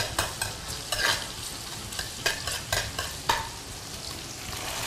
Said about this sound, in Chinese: 先放莲子和青豆炒，把那个葱炒出香味儿以后